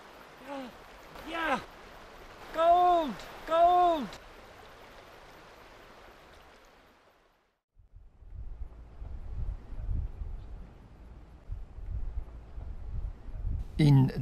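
A river flowing at a former gold-finding site on New Zealand's West Coast: a steady broadband rush of water with some wind, heard after a voice speaks at the start.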